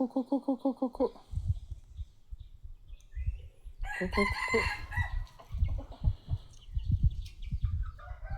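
A chicken gives a rapid run of rhythmic clucks. After a lull with low rustling, a rooster crows loudly nearby. Softer clucking and scratching follow.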